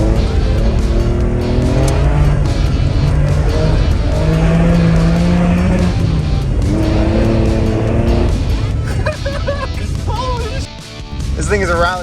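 A cheap Porsche converted into a rally car brakes early and skids through a hairpin, engine roaring and tires scrabbling loudly throughout, recorded close from inside the car, with a driver talking over the noise.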